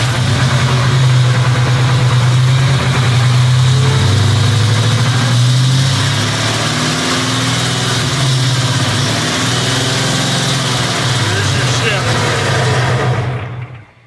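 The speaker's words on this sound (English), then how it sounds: "Do the 1-2 shift one more time and hold first gear for like 2 seconds," A truck engine runs steadily through a 1-2 gear shift during transmission testing at a racing transmission shop; it's a loud, continuous drone with a pitch change midway, then fades out at the end, with voices talking over it.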